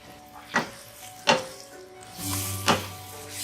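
Tomato and onion paste fries with spices in a pan for Baingan Bharta, a steady soft sizzle broken by three distinct clattering stirs or spoon knocks, heard close with no speech.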